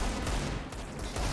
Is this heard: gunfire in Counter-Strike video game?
yes